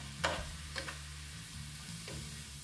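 Steamed cabbage being stir-fried in a pan, with a few scraping stir strokes near the start and another about two seconds in, all over a soft, steady sizzle.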